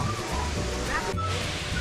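Waterfall at the Wat Khao Tham Thiam cliffside temple in Suphan Buri, water pouring from rock crevices as a steady broadband rush, close and continuous, with a voice talking over it.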